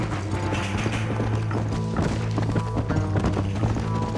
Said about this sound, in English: All you done is get on the back of this horse, my friend.